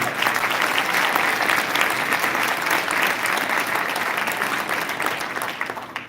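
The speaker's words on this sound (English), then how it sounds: "So let's give them a round of applause and thank you." A large audience at a cultural night gives performers a loud, full round of applause, thick continuous clapping that stays strong for several seconds and then fades toward the end.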